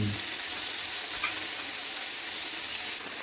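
Entrecote beef steak sizzling in a hot pan at home, a steady close frying hiss with crackling spatter running evenly throughout, no talk.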